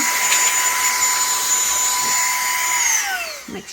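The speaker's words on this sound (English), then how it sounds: "I'm just going to blow this, my little blower." A small handheld air blower blowing dust off a resin wall art piece: a loud, steady high-pitched motor whine with rushing air that runs close and continuously, then drops in pitch as it winds down near the end.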